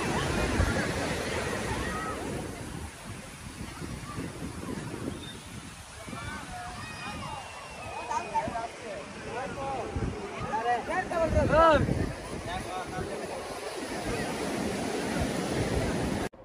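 Surf at Rushikonda beach in Vizag, a continuous roar of breaking waves mixed with wind buffeting the microphone, with a swell in loudness partway through and a person talking faintly underneath.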